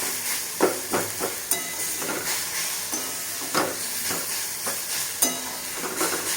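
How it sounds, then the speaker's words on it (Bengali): Nigella seeds, dried chillies and whole peppercorns dry-roast in a pan, giving a soft steady crackle and hiss with occasional scraping stirs. "এটা ভাজা ভাজা হোক, ভাজা ভাজা হলে তারপরে এটা শিলে বাটবো"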